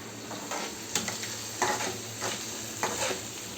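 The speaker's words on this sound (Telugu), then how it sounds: "సో ఇంత వేసుకున్న తర్వాత గరిటెతో మంచిగా తిప్పుకోవాలన్నమాట." A ladle stirs chili powder into a sizzling curry in a pan, with steady frying hiss and several louder scraping strokes.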